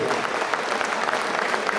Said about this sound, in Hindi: जितनी जोर से ताली लगा सको आप उतनी जोर से